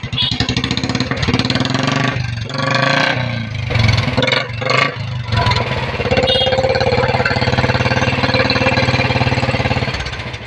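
Close, loud revving from a second-hand Royal Enfield Bullet motorcycle engine, with repeated throttle blips rising and falling over a rumbling idle, a few sharp surges in the middle, then a sustained steady roar.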